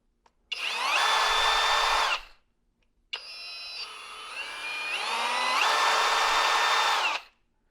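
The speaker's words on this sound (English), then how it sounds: "now we'll get to listen to the drill" A Kobalt 24v right angle drill runs in two close, loud bursts with a short silence between them; its motor whine climbs and falls as the variable-speed trigger moves through different positions.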